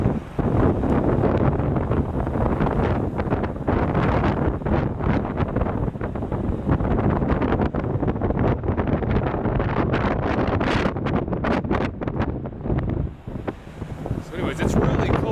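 Heavy wind buffets the microphone in continuous loud gusts on a ship's top deck near Pärnu, Estonia, with a voice talking faintly beneath the roar.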